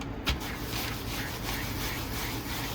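A coating is worked by hand into a watercolor painting's surface with a steady, close, soft rubbing scrape and one sharp knock near the start.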